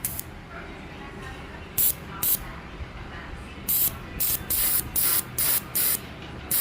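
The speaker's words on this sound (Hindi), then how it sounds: "इंजेक्टर का स्प्रे बहुत तगड़ा है" A car fuel injector from a Hyundai i20 sprays in short hissing bursts during cleaning on a test bench, about eight sharp pulses of varying length over a low mechanical hum, close and loud, with a person talking nearby.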